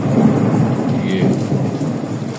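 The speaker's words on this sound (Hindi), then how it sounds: "अभी बड़ी ज़ोर से बादल गरजा है" Thunder rolling through heavy rain in Faisalabad, a loud deep rumble under dense, steady rainfall hissing on surfaces close by.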